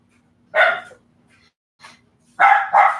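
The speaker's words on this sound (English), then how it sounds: "the little dog's gonna bark because the big dog outside's barking" A little dog barks indoors in short bursts, a single sharp bark followed after a pause by a faint yip and then two quick barks, close and loud against a quiet background.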